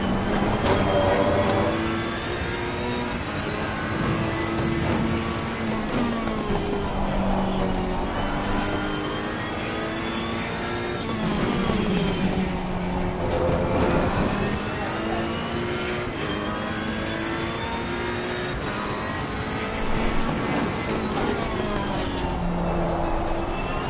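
Race car engine in the Assetto Corsa Competizione racing game on the Brands Hatch circuit, loud and continuous, with revs rising and falling through gear changes and braking across the lap.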